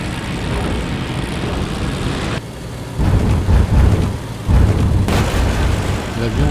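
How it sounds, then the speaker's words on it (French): An old propeller airplane flying low over a field, its engine droning loud and rough throughout, with rumbling bursts and shifts in tone that fit an airframe straining and creaking. "L'avion craque de partout."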